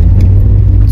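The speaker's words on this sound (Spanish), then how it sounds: "Vamos a salir rápidamente aquí para sentir un poco su aceleración en primera." A Daihatsu Copen kei car pulls away hard in first gear, its small engine giving a loud, steady close-up rumble with no one talking over it.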